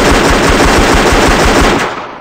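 Rapid machine gun fire in the video game CrimeLife 3, a loud, continuous burst of closely spaced shots that fades at the end.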